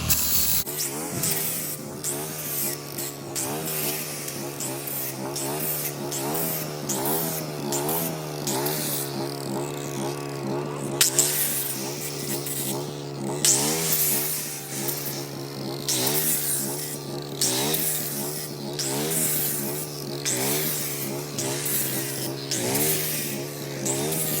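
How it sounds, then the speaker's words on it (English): A generator's steady engine drone runs throughout, loud and continuous, with a rough mechanical buzz that barely changes over the whole stretch. "Handy to have a generator around."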